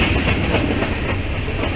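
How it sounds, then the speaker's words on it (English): Two freight trains, one hauling oil tank cars, roll through downtown Danville, Illinois, with a loud, steady, close rumble and rhythmic clatter of wheels on rail that fills the whole moment without pause. "2 trains at once, oh boy."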